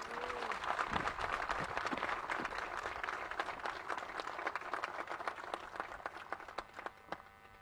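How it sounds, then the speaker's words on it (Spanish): An audience at a tribute ceremony honoring the rescue of the 33 San José miners gives a sustained round of applause, dense clapping that holds steady and then thins toward the end. "Otro fuerte aplauso para él, por favor."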